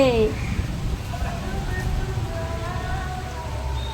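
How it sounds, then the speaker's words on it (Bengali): Early-morning rain falling steadily outdoors, a close, even wash of drops under a woman's speech, with a faint passing engine or vehicle tone in the background. "দেখো তো সকাল সকাল বৃষ্টি পড়তে শুরু হয়ে গেছে"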